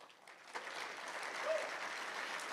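An audience applauds at a formal political address, a soft, steady patter of clapping heard from some distance that swells slightly midway.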